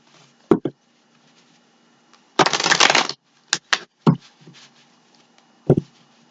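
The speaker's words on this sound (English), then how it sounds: "I'm going to shuffle. I was just going to lay them out, but I feel like shuffling." Tarot cards handled and shuffled, a few sharp taps and knocks of the deck followed by a burst of riffling, close and clear in a quiet room.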